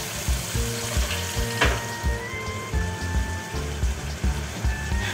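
Shelled flat bean seeds tipped into a sizzling pan of snakehead fish curry, a dense continuous frying hiss with soft stirring bumps, close and steady, and no talking.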